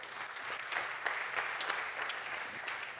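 Theater audience applause, a continuous wash of many hands clapping at moderate distance, fairly quiet and without talk.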